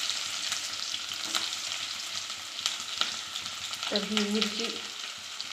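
Onion sizzling steadily in hot oil with mustard seeds, garlic and cumin, a continuous bright crackle with occasional pops and stirring scrapes, and a brief spoken voice near the end.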